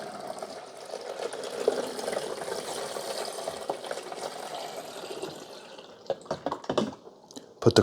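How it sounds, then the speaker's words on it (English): Fresh water, twelve cups' worth, poured into the rear reservoir of a Braun Brew Sense KF7370 coffee maker: a steady close gushing pour that ends abruptly, followed by a few clunks and drips. "This is fresh water, 12 cups. We're gonna dump it in the back here."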